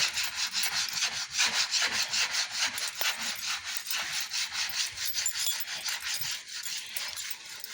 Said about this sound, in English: I'm going to take it directly and put it on this area here, which is very dark over here, and I'm just going to be wiping it like this.